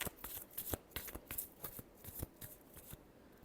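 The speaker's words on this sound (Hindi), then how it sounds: "last shuffle" Tarot cards being shuffled by hand, with a rapid run of crisp riffling slaps and flutters at close range and no talking.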